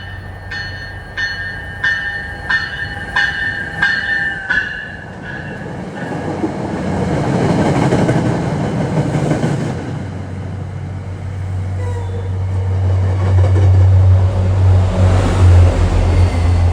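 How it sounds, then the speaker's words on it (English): Amtrak train 2170 from Washington rolls into Boston with a loud, low rumble that builds steadily, preceded by a rhythmic run of metallic clicks and a rising squeal of wheels. "arriving is train 2170 from Washington to Boston"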